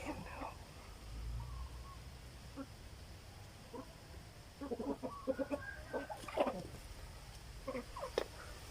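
Free-range native hens cluck and murmur in a quiet coop with nesting boxes, sparse at first, then a livelier cluster of clucks in the latter half, moderately close.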